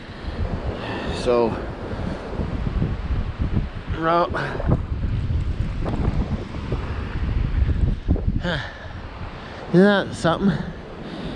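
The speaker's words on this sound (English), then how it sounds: "Wow, listen to that wind." Strong blizzard wind roaring at a microphone outdoors in Regina, Saskatchewan, a loud continuous buffeting rumble with gusts, as a voice speaks briefly several times over it.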